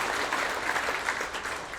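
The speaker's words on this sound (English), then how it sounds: "Big round of applause for Kate joining us here tonight." An audience at an awards banquet applauds a presenter, a steady full round of clapping from a crowded room, fairly close and sustained throughout.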